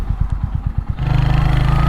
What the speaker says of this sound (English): So I'm hoping the mic is picking up that engine noise from the helmet okay, because it does sound great.